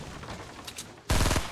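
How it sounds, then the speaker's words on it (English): Video game gunfire: a sudden loud burst of rapid automatic shots breaks in near the end after a quieter stretch of faint in-game noise. "Oh, he's shooting at us."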